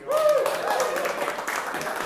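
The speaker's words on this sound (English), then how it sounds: "I love asking for applause for Brent and basking in it" A small audience applauds for Brent at a live music show, a short burst of clapping rising quickly and continuing at moderate level, with a voice briefly heard at the start.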